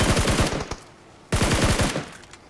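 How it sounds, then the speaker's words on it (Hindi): Rapid automatic gunfire in a first-person shooter game, fired as cover fire, comes in two sustained bursts of loud, closely spaced shots with a brief pause between them. "यहाँ पे विक्की को कवर फायर दिया मैंने"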